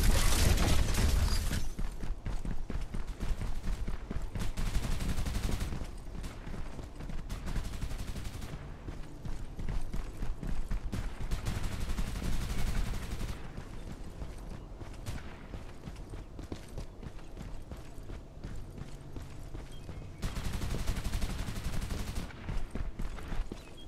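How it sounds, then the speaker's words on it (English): Artillery fire in the battle royale game Farlight 84: a long, dense barrage of booming blasts and rattling impacts, loud and continuous, swelling and easing in waves with no talk over it. "Time for some artillery."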